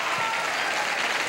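A studio audience applauds in a dense, continuous wash of clapping hands that fills the space with no break.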